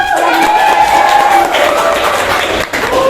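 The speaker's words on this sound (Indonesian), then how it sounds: "Oke, kita tepuk tangan lagi untuk kita semua" Students applauding in a vocational high school classroom in Garut, Indonesia: a short, loud burst of group clapping, steady for about three seconds with room noise and some tonal hum underneath.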